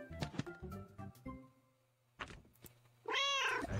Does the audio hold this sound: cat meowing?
yes